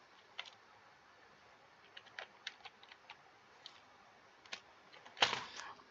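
Keys tapped on a computer keyboard, sparse irregular clicks and short bursts, faint and close in a quiet room, with one louder clack near the end.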